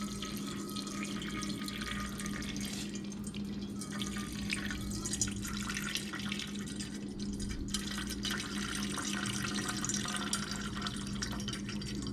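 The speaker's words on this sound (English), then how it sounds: "You can see it really wants to flow once I loosened up that radiator cap." Coolant trickles and drips steadily from a motorbike radiator into a funnel, a continuous close liquid flow over a low mechanical hum, with no talking.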